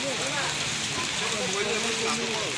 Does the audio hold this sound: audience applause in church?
no